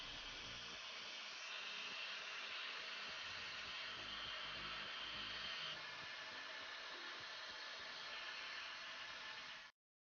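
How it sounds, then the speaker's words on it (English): A vacuum cleaner hoovers dust out of a vintage amplifier, giving a steady airy hiss and whoosh that runs continuously at moderate level before stopping suddenly near the end. "from that quick hoover out and brush out, it looks a hell of a lot better"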